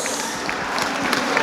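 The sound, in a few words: wedding guests applauding the bride and groom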